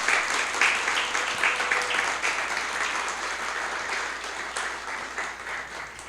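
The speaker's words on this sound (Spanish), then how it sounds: "Den un aplauso fuerte al Señor." Loud, sustained applause from a church congregation during a Spanish-language sermon, a thick continuous roar of many hands clapping with faint voices mixed in.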